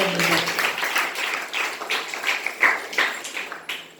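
A congregation claps for God, a ragged patter of hand claps at moderate loudness with uneven beats that continues through the short stretch.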